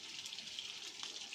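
Water streams steadily into a Whirlpool washing machine with an even, hissing rush that holds at one level for the whole stretch, with no voices.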